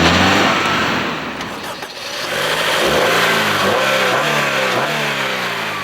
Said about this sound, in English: The highlight and heart of the SiR is its 2-litre double overhead cam i-VTEC engine